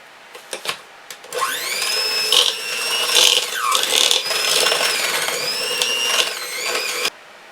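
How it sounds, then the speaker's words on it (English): An electric mixer blends eggnog ingredients with granulated sugar, starting after a few clicks and knocks, then whirring loudly and steadily with shifting pitch for several seconds before cutting off abruptly. "We're going to blend this together."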